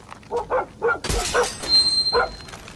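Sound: dog barking and whimpering in video game Far Cry 6

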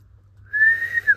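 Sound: someone whistling in a forest at night

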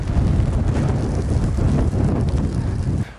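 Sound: wind

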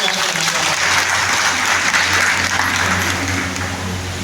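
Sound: audience applause

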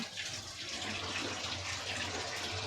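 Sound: washing dishes and containers in the kitchen

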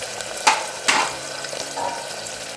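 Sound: onion being sautéed in a pan until brown

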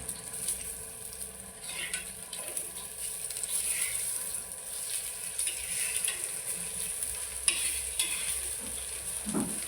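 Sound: eggplant slices frying in a pan

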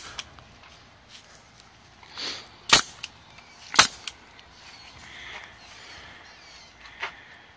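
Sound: pneumatic air staple gun firing staples into fence

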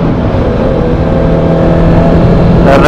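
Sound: motorcycle revving with SC Project exhaust

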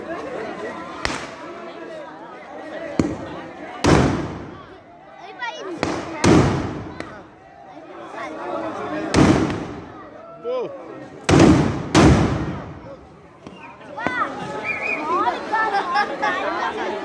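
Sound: firecrackers exploding

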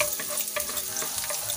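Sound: sautéing pechay with corned beef in a pan

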